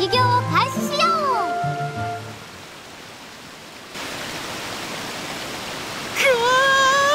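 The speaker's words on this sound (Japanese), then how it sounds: "よし、それじゃあ滝行を開始しよう。" Waterfall in the SAO Hollow Realization video game pours as a steady broadband rush through the middle of the clip, with game voices and tonal cues at the start and end.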